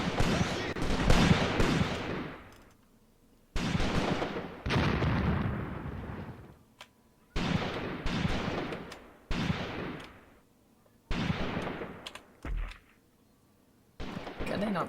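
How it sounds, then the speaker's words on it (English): Grenade blasts and gunfire in the Graviteam Tactics battle game, set around Shilovo in 1942, come in loud repeated bursts with brief pauses between them, while someone talks over parts of it. "Okay, grenades are falling"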